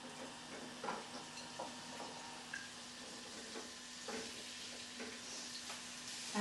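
Quiet, steady sizzling of vegetables frying in a pan, with occasional soft clicks and stirring taps.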